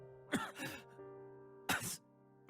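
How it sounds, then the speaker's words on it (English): A man in the video game Tears of Themis coughs softly and clears his throat twice, short muffled bursts separated by a pause, close and alone over a steady faint background tone. "His cough sounds soft and muffled under his hand and is mixed with a concerning sound of him clearing his throat."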